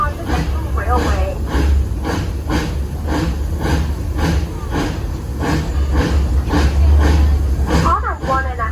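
Narrow-gauge steam locomotive, a replica of Union Pacific 119, chuffs in a steady rhythmic beat on a zoo railroad ride, loud and close, with continuous rumble and hiss beneath.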